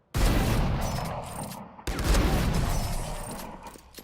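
Two loud, booming shots from Chamber's weapon in the video game Valorant, each a sharp blast followed by a long, decaying roar, spaced about two seconds apart with no talking.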